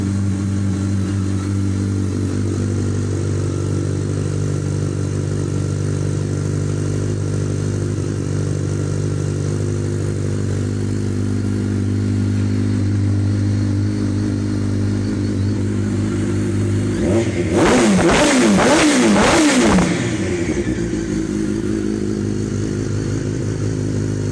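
A motorcycle with aftermarket mufflers idles loudly and steadily up close, then gets a short, sharp rev burst near the end before dropping back to idle.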